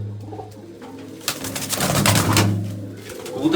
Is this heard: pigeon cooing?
yes